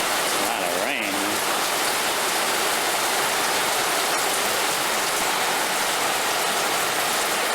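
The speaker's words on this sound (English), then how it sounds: "this is my first official rainy day of living in my own place. It's raining too, wow." Heavy rain pours steadily outside a home, a dense continuous hiss close by with a brief voice early on.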